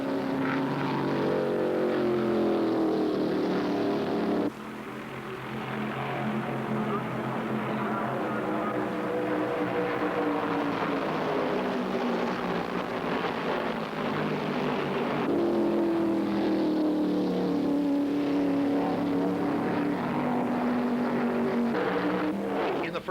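NASCAR stock cars racing at the 1975 Daytona 500, a continuous loud engine roar with shifting pitch as cars pass close by, carrying on steadily throughout with a brief dip partway.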